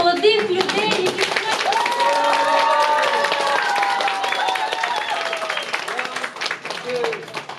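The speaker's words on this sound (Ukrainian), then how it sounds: "One more round of applause for all these absolutely brilliantly talented people" An audience applauds at the end of a theatre play, a loud, dense run of clapping with scattered cheers that tapers off near the end.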